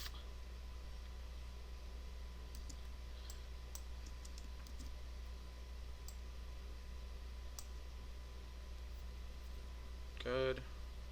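Computer mouse clicks during Adobe Illustrator work: soft, sparse, irregular clicks over a steady low hum, with a short sound near the end.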